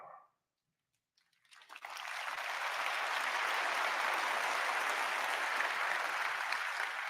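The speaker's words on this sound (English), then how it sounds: "Only this conference do they clap for RAS." Audience applause fills a large hall at the NVIDIA GTC 2024 tech conference, starting after a brief silence, quickly swelling into dense, loud, sustained clapping that holds steady to the end.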